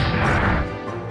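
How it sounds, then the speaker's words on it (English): In Yu-Gi-Oh! The Falsebound Kingdom, a Stone Splitter Sword attack hits with a heavy smashing impact, then rings out briefly in a short decaying crash. "Stone Splitter Sword."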